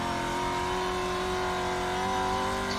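Pro 2 race truck engine droning steadily at high revs during racing, a continuous loud tone with a slight rise near the end and no talking.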